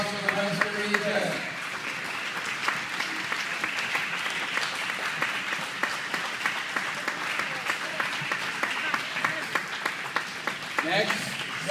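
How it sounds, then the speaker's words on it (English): Audience applause at a karate nationals event, a sustained crowd of hands clapping at moderate volume, with a few sharper individual claps standing out and voices briefly heard at the start and end. "A round of applause for the Western Region."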